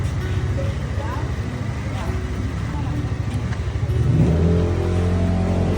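A motorcycle engine revs up and drones steadily nearby, with people chatting over it throughout.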